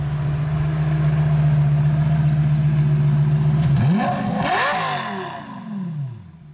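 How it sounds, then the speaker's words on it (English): A 2008 Lamborghini Gallardo Spyder convertible's V10 idles steadily, then blips into a loud rising rev that swells and fades back down, heard close up with no talking. "What a V10 sounds like."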